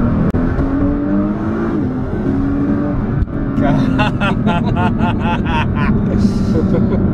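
An 1800 hp Nissan GT-R engine accelerates hard, a loud steady roar with rising revs and a burst of crackling pops toward the end, heard from inside the car.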